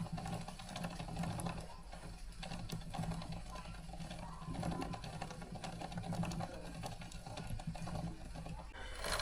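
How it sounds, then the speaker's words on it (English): A motorcycle chain turns as the rear wheel is spun after cleaning and lubing, giving a rapid, continuous mechanical ticking and whirring at close range. "Make sure you spin the wheel a few times to help the oil settle evenly."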